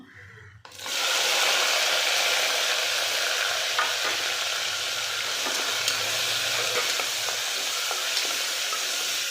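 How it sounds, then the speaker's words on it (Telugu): Chopped ingredients dropped all at once into hot oil, bursting into a loud, steady sizzle that holds evenly throughout, with faint stirring scrapes and crackles underneath. "ఇలా ఆయిల్లో కొద్దిగా చిటపటం అని దూరగా వేగాలి"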